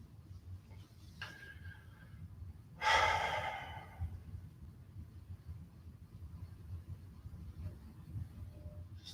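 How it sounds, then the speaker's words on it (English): A single audible breath, an exhale or sigh, during a gentle yoga routine, heard once near the start over a low steady background hum and otherwise quiet. "Just focusing on the breathing."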